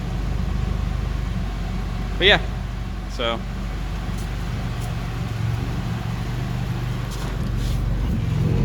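A Honda Civic with a swapped F23A engine idles after a cold start, giving a steady, low engine hum close by, with brief bursts of a voice over it.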